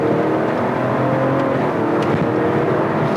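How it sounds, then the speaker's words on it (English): A 2023 Grand Wagoneer L with the Hurricane 510 engine accelerates hard in sport mode, heard from inside the cabin as a loud, steady engine drone with road roar beneath it. "put your foot down and we're in sport mode"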